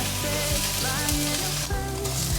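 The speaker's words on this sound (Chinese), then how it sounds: "锅內放入適量的油，豆腐放進來煎，給它先煎定型" Tofu pan-frying in oil with a steady, close sizzle and crackle, punctuated by a few low knocks of the pan, with no one talking.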